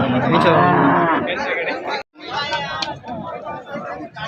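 Cows at a cattle market moo loudly and close, with a long low call up front, while a busy crowd chatters and people talk throughout.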